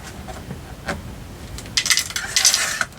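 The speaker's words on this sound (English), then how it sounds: "I'm just going to trim a little bit off each side" Paper edges being trimmed off a seed packet card, a few soft scraping cuts followed by a louder, brisker run of crisp rasping snips and rustles, close up.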